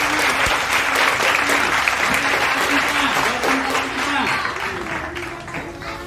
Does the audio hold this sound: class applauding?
yes